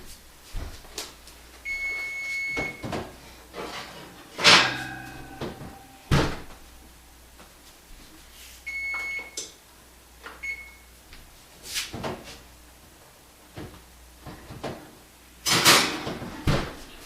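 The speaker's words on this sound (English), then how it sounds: "I'm going to go ahead and grab that crust out of the oven" Oven opened to take out a lemon bar crust, several loud clunks and door bangs spread across the clip, with short electronic beeps and clattering in a kitchen.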